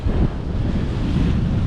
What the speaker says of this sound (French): Moi j'ai pas trop envie d'affronter le vent là aujourd'hui